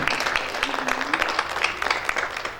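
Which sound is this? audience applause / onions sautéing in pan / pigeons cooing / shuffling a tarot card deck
audience applause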